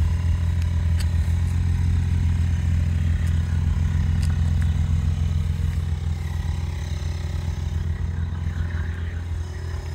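A 1998 BMW M Roadster with a Stromberg exhaust idles, a steady, loud, low burbling rumble close by, with faint clicks on top and a slight fade toward the end.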